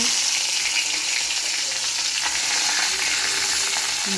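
Dried red chillies, cinnamon and two bay leaves sizzle in hot oil in a pan after fish has been fried, a steady loud crackling hiss running unbroken with faint stirring scrapes.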